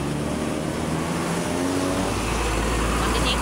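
Heavy highway traffic on Maharlika Highway, with vehicles rumbling and passing close by in a loud, continuous roar that swells toward the end.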